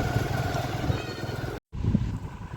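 Motorcycle ridden on a trip through the Patalkot valley near Tamia in Chhindwara, a steady close engine drone with wind rumble, broken by a short gap of silence before the engine returns.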